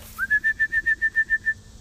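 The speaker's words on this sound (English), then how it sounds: "that's the whistle I'm using to bring her to me" About ten quick, evenly spaced high whistle pips come from a recall whistle used to call in a bird-hunting puppy in training. They are loud and close, with nothing else heard beneath them.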